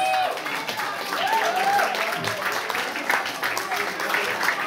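An audience claps for a street busker on a central street in Lisbon, a scattered round of applause under a speaking voice.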